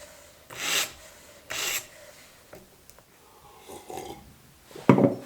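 Light sharpening passes on a knife edge, cutting stroke only, with two loud close rasping strokes early on, then softer, scattered scrapes and one more sharp stroke near the end.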